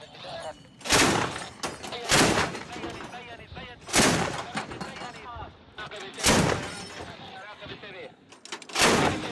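Repeated anti-aircraft gunfire aimed at warplanes in rural northern Idlib, with loud broadband bursts at roughly one- to two-second intervals and shouting voices between the shots.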